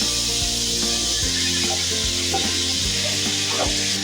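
Potatoes and onions frying in a pan over whole cardamom and cinnamon, making a loud, constant close-up sizzle with a faint low hum beneath.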